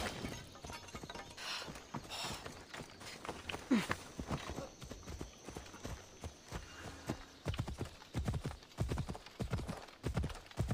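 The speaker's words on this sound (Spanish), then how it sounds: "Quiero un caballo. Tu caballo." Horse hooves clip-clop steadily in Assassin's Creed Odyssey: a dense run of close hoofbeats with a few sharper knocks, continuing for the full stretch with no talk.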